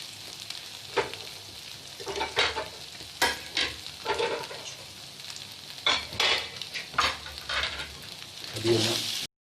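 Beef undercut steak frying in a pan, a continuous sizzle broken by repeated stirring and scraping strokes of a utensil, close and moderately loud, with no talking.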